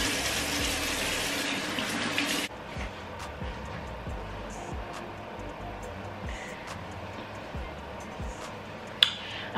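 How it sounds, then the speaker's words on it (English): Tap water runs steadily into a sink while face cleanser is rinsed off, a strong hiss at first that drops to a softer, continuous flow with small splashes. "So now we are gonna rinse off."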